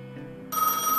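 A telephone in Gas Station Simulator begins ringing, a bright electronic trill that cuts in loudly halfway through after a quieter stretch of game sound.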